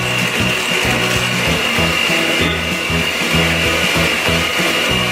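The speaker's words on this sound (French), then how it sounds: "Et là, on mixe." Electric mixer beats cake batter in a home kitchen, a loud, continuous motor whine with a faint, irregular scraping pulse underneath, close and steady for the whole stretch.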